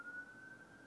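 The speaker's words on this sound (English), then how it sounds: "I've gotten so used to the sirens" A faint, steady police siren tone holds a single high pitch in the distance, brief and quiet against a low background hum.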